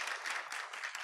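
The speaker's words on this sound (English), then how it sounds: "A big round of applause for them." Brief, faint applause for a law firm sponsoring a tournament final round, a quick patter of clapping from a small audience.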